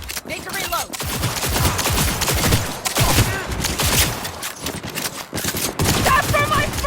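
Rapid automatic gunfire in the video game Cyberpunk 2077, sustained bursts broken by short pauses, loud and close, with game voices faintly mixed in.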